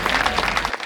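Brief burst of audience clapping at a Hindi poetry recital, dense and fairly loud, cutting off abruptly near the end.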